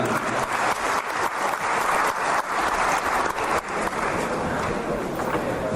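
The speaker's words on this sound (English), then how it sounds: "Please a round of applause for African Union." Crowd applause for the African Union at an African Fashion Reception in Paris, a full, even roar of clapping hands with some louder bursts, sustained for several seconds.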